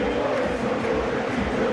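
A dense, steady roar of a stadium crowd in the EA FC26 football video game, a continuous loud murmur of many voices with no breaks, full of pre-match anticipation.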